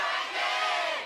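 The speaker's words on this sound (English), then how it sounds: "Crowd's going nuts." A large esports arena crowd roars and shouts at a League of Legends match, SK Telecom T1 versus GE Tigers in LCK Spring 2015, a dense sustained wall of cheering with no clear speech.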